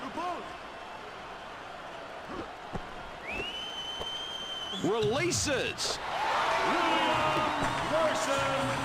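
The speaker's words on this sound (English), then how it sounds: "This is a great atmosphere with all these fans cheering on the home team." A virtual arena crowd in College Hoops 2K4 on the original Xbox cheers, rising to a loud sustained roar after sneaker squeaks, ball bounces and a whistle, while an announcer talks over the court noise.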